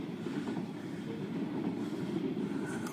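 A train in Biloxi rumbles past nearby, a steady low roar of rolling wheels and cars that holds at an even level throughout, with no voices over it.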